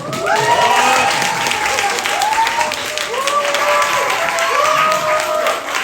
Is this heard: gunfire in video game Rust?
no